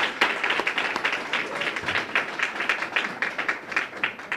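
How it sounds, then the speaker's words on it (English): Audience applause at a Boston Public Schools Educator of the Year reception, a dense, steady round of clapping from a gathered crowd, moderately distant and without speech over it. "So I just want to start by giving her a round of applause."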